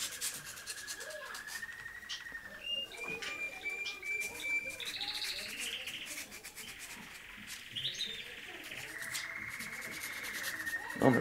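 Rhythmic scraping of hand sanding with a homemade nail file, repeated back-and-forth strokes close by, with birds chirping in the background.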